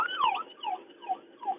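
A wailing siren sweeps up and down in repeated falling tones, steady and moderately loud like a passing ambulance, with road noise underneath.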